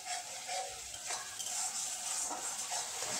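Ingredients for doi katla, a Bengali curd-based fish curry, are stirred and sautéed in a pan, with steady scraping and gentle sizzling close by throughout and no voices.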